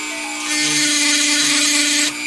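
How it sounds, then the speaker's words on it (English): A Dremel rotary tool grinds a hard knife blade, a loud, steady, high whine that rises as the bit bites into the steel and stops abruptly, close with no talking. "doing this for too long is a good way to kill your Dremel"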